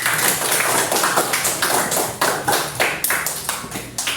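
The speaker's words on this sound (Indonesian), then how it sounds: "Tepuk tangan untuk Anggun dan Naira." A primary-school classroom of pupils claps in a rhythmic run of sharp, evenly spaced beats, close and fairly loud with no talk over it.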